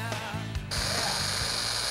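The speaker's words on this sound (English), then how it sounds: "we got the Makita polisher" A Makita electric power polisher whirs up to speed with a steady high motor whine and buzzing hum, loud and close, following a few brief musical tones at the start.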